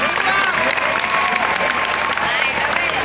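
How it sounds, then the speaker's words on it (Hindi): Audience at a kavi sammelan poetry gathering clapping loudly in honour of a guest, a dense, continuous burst of applause with some crowd noise and cheering mixed in. "हम सब उनके सम्मान में एक बार जोरदार तालियां बजाएं"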